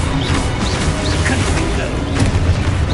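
Explosive spell blasts in Hogwarts Legacy form a dense, continuous wash of booms and crashing impacts, loud and close throughout with no clear gaps between hits.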